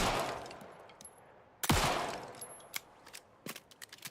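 Gunshots fired at a birdhouse in Alan Wake 2: one sharp, loud shot with a ringing tail, followed by several quicker, fainter cracks and impacts.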